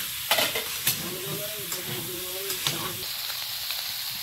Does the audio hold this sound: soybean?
yes